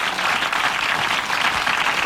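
A studio audience applauds a female game-show contestant who has just won 1000 francs. The clapping is steady, dense and fairly loud throughout, with no voices over it.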